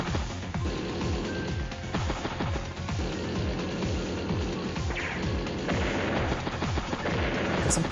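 Artillery firing in Advance Wars: Days of Ruin, heard as loud, rapid, repeated blasts with falling whistle-like sweeps under a steady game soundtrack, with no talking.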